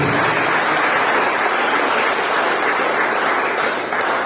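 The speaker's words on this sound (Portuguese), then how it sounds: "Você pode aplaudir o Senhor por isso?" A church congregation at a Thursday evening worship service claps together in a dense, steady round of applause that stays loud and unbroken from start to finish.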